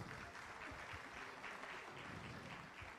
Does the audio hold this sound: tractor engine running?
no